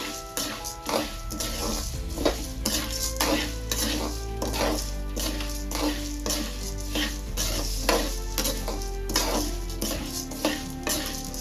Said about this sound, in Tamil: இதெல்லாம் சேர்த்து ஒன்றா வறுக்கலாம்